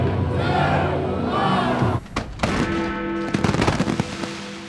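Fireworks launched from the ramparts of Edinburgh Castle at New Year, loud crackling bursts and booming reports over a cheering crowd, with a short lull midway before dense crackles resume.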